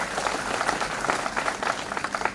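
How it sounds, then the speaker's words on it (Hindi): Audience applause at a C20 program in Narmadapuram: a dense, steady patter of many hands clapping together for the full clip, fairly close and even in level, with no voices over it. "एक बार इनके लिए ताली बजाओ।"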